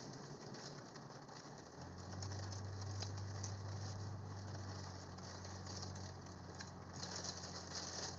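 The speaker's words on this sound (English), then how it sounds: "Wow, it is coming down the rain." Heavy rain pounding a moving car during a severe thunderstorm on a New York State highway, a steady loud wash of water and road noise with a low engine hum that rises after a couple of seconds.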